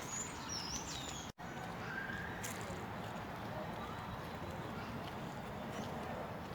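Birds chirp faintly in Parque de la Salud, a lush, flowering city park in Asunción, Paraguay. Brief, scattered high calls sit over a steady wash of outdoor ambient noise.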